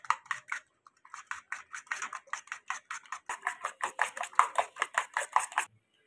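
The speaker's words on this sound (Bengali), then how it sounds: "একটা চামচ দিয়ে খুব ভালো করে ফেটিয়ে নিচ্ছি।" A spoon whisks eggs with chillies and salt in a bowl, making quick, light, rhythmic clinks that pause briefly, then carry on in a steady run of close taps.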